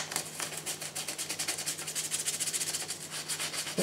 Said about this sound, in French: on frotte avec le WD-40 encore pour enlever plus de terre, le plus encore de terre possible qui ne reste dans la jante